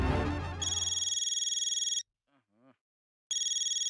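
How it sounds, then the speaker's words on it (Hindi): A phone rings as a call is placed in the Indian TV sitcom Taarak Mehta Ka Ooltah Chashmah: a rapid warbling electronic ringtone trills for over a second, drops out for a short quiet gap, then starts again, loud and close. "सबसे पहले तो चंकी को फोन करो, पूछो क्या है क्या ये।"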